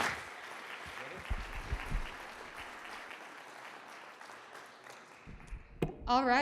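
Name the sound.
round of applause from the audience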